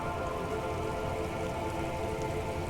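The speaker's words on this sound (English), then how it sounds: "All around you, rain keeps falling down. On the wooden boards she's standing on, and on the water around you." Steady rain patters without a break on wooden boards and the surrounding water, a dense, even hiss holding the same level from start to finish in the Disco Elysium video game.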